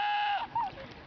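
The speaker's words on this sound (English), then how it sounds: "That's a goat. I'm calling it." A short animal bleat, a goat's or a sheep's, played back in a kids' animal-sound guessing game: a single wavering, nasal cry lasting about a second, fairly clear, with no talking over it.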